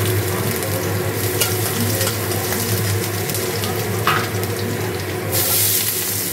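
Garlic sizzles in hot oil in a wok, a loud, steady, close hiss with scattered crackles and a low background hum running underneath the whole time.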